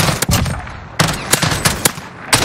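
Bursts of gunfire from the video game Call of Duty: Modern Warfare crack in loud, rapid, uneven volleys with short pauses between them, close and dominant, with no talk over them.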